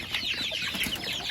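Little chicks peep in a farmyard during morning chores, a steady high chirping chatter with soft clucking from nearby fowl mixed in.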